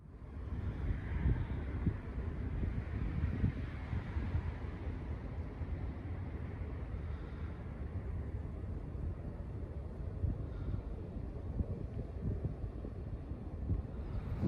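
Steady wind roars into the microphone outdoors for the whole stretch, a continuous loud rush with faint flutter from flapping pant legs, no voices.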